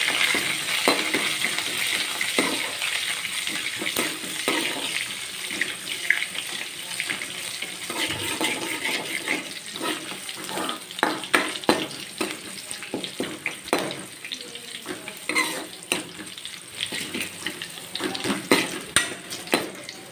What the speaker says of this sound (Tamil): கருவேப்பிலை போட்டு கொஞ்சம் பொடியாக கட் பண்ணி வச்சுருக்கிற வெங்காயம் போட்டு